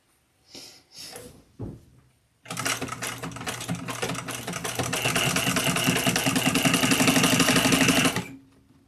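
A sewing machine runs a stitch on a leather bag in a leather studio, a steady, close, rapid mechanical rattle lasting about six seconds after a few brief handling knocks.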